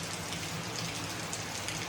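Light rain begins to fall, producing a steady, soft, even patter of drops with no other sounds above it.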